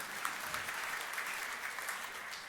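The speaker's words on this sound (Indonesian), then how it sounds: "Tepuk tangan yang meriah, teman-teman." An audience at a church sermon gives a soft, even round of clapping that continues quietly throughout, with no voice rising above it.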